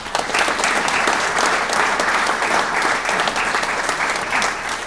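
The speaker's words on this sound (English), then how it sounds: "Please give a round of applause for our volunteers." An audience at a wrestling hall of fame introduction applauds volunteers, a dense, steady burst of many hands clapping at once, loud and close, lasting several seconds with no voices over it.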